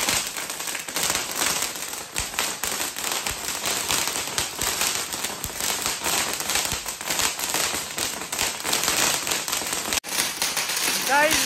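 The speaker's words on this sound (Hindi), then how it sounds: "बड़े पटाखे नहीं थे हमने बड़े फाड़ने थे।" A long, loud string of firecrackers pops and crackles nonstop nearby during a celebration of an India win, a rapid sputtering barrage that briefly cuts out near the end.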